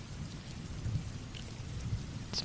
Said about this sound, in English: It's mostly rain.